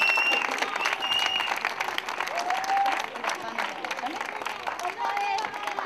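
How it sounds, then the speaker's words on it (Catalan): A crowd applauds the 2007 winner at a women's five-mile running race, with continuous clapping and cheering at moderate level and people talking over it. "Un fort aplaudiment a la guanyadora de l'edició 2007."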